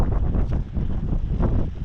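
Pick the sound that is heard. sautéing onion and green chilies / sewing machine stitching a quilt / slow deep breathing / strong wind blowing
strong wind blowing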